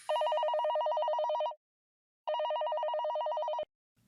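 A telephone rings twice, each long trilling electronic ring followed by a pause, clear and fairly close, with no one speaking.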